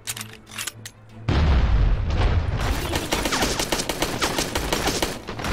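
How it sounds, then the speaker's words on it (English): A grenade goes off in a first-person shooter video game with a sudden, loud, deep boom that rolls into a long rumbling blast and crackling debris, heavy and close, following brief gunfire, with no talk over it. "Grenade out!"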